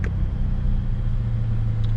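A Toyota FRS with a mostly stock exhaust, muffler and resonator deleted, drones with a deep, steady rumble from inside the car while driving, loud and constant with no voices.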